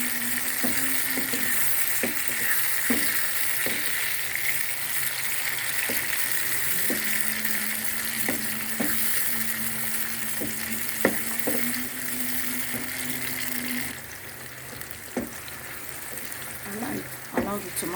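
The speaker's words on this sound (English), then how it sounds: "Allow the tomatoes to fry very well." Tomatoes sizzle and fry in a pan for a vegetable egg sauce, with a constant crackling hiss and repeated scraping, clinking stirs of a utensil against the pan; a steady tone runs underneath.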